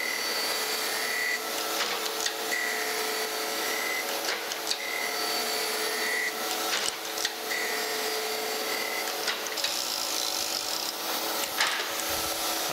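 A cast iron blank being ground on a lathe gives a continuous harsh, high rasping whine with regular faint rhythmic pulses as the work turns, close and steady with no talk.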